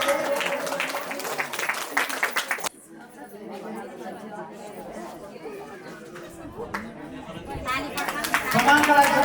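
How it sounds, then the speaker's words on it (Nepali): Audience at a Dhaneswar temple kirtan group's annual honors program clapping, with a dense burst of applause at the start and again near the end, and murmuring crowd in the quieter middle. "सबैले ताली बजाइदिनु अनुरोध गर्दछु।"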